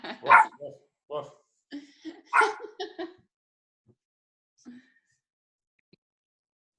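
A dog barks indoors in a quick cluster of sharp barks, then gives a few faint, scattered yelps in a quiet room.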